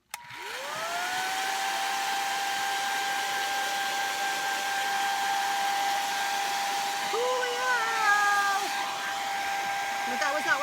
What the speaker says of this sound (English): I'm going to use the hairdryer, which is very scary because I have cards everywhere.